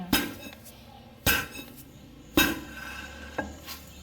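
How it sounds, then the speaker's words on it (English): Recycled glass is pounded for bead making with a fufu-style pounding motion, giving four sharp crunching, clinking impacts about a second apart, each followed by a brief gritty rattle. The strikes are close and loud against a quiet background. "We pound the glass like the way how we pound fufu."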